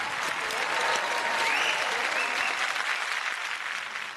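Studio audience applause for a contestant on a Marathi TV singing competition, a loud, sustained wash of clapping that swells slightly in the middle and then tapers, with faint voices in the crowd.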